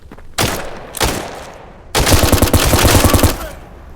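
An UZI submachine gun firing in a video game: two short sharp bursts, then a long rapid automatic stream of loud, closely spaced shots.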